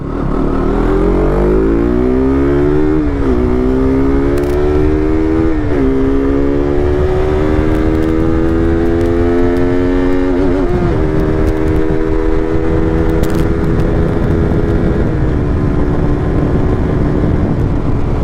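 A fully modified KTM RC200 motorcycle on a highway roars loudly from its exhaust, pitch climbing through several gears with brief dips at each shift, then holding a steady high cruise under wind rush.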